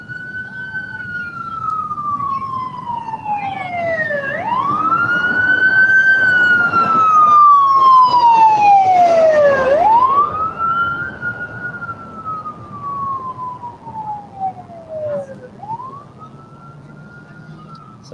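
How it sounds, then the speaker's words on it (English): Loud ambulance siren sweeping up and down in long wails as it passes near an LAX plane-spotting spot, rising to a peak around the middle and then fading, with traffic rumble underneath. "Sorry about that loud ambulance."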